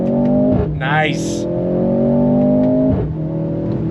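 A 2024 Mercedes-AMG C 43 sedan accelerates hard in second gear, its engine note climbing steadily and loudly before a brief dip near the end, with a short spoken remark over the engine.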